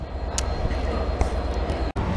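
Steady low rumble of a train accelerating, a continuous loud drone with faint rattles and one brief dropout near the end.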